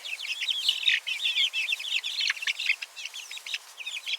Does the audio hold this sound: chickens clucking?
yes